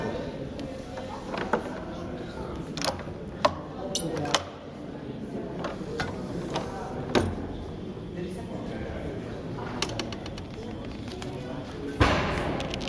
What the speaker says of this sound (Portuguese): a palavra o nome que tem esta máquina é prelo